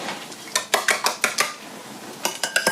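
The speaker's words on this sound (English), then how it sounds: "Again, you don't want to over whisk them." Whisk or utensil clattering against a pan as scrambled eggs are beaten over melted butter, a fast run of sharp metallic strikes, a pause, then another quick burst, close and fairly loud with no voices.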